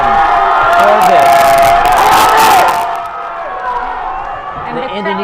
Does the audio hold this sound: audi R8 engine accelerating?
no